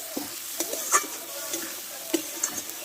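Potatoes being sautéed with spices in a pan for an egg and potato curry, giving a steady close sizzle and frying hiss with several sharp spatula scrapes and clinks spread through it, and no voices.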